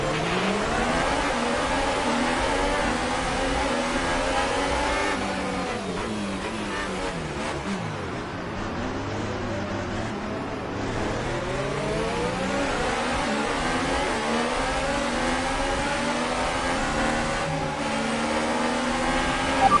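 A racing car engine in a PS4 racing game pulls away from a standing start, revving loud and steady with rising and falling pitch sweeps as it climbs through the gears, with no voices.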